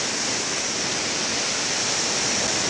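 Chagay Falls, a hidden waterfall in North Bengal, roars steadily as a loud, dense, unbroken wash of falling water heard from close range, with no talking.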